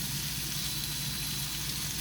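Spicy smoked sausage sizzles on a George Foreman grill, a steady, faint, hissing fry with no pauses and no talk.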